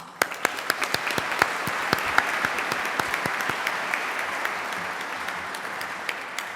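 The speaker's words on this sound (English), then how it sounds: "let's give a round of applause to those here today" Audience at a graduation ceremony applauds in a sustained, dense wash of clapping, with sharp individual claps standing out near the microphone, fading slightly toward the end.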